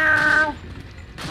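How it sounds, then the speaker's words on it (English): In Resident Evil 4, a short, high, cat-like cry wails loudly and fades quickly, followed by quiet rustling and a faint thump. "Sounds like a cat."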